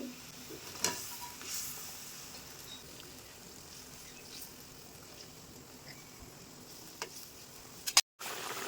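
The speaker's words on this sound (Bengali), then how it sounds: "এ দেখুন কি সুন্দর আমার ঝোলটা ফুটছে" Rohu fish in mustard gravy simmering in a pan makes a soft, faint bubbling hiss, with a few scattered clicks and a short knock near the end.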